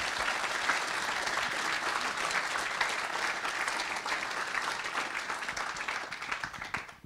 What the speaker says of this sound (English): So huge round of applause and thank you for the Drupal Association for them.